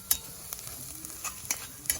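Gentle sizzling of green chillies frying in a pan for mushroom curry, with a few sharp crackles and spatters popping up at irregular moments.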